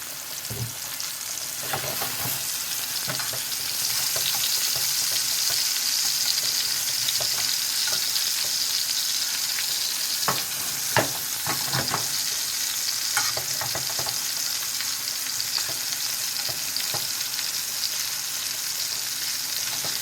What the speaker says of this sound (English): Put a little oil in there so that they don't stick.